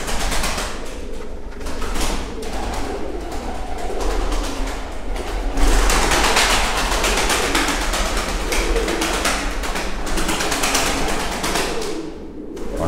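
Mardin tumbler pigeons coo softly amid a busy, noisy background, with a continuous rumble and rustling throughout; no clear speech.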